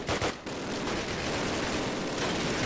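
Call of Duty gunfire: a loud dense burst of rapid automatic shots that fills the whole short stretch with little break and no talk.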